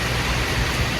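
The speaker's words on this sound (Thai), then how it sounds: "ฝนก็ตกนะคะ" Steady rain falls outdoors as a dense, even hiss with no breaks, filling the whole moment at full strength.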